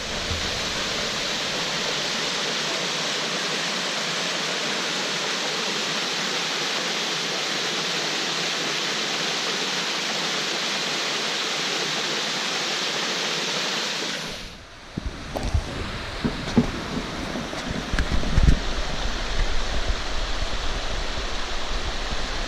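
Rapidy Brook rushing through a deep ravine near the Little Salmon River, a steady loud broadband roar of flowing water, with a handling bump midway and then closer splashing and rustling.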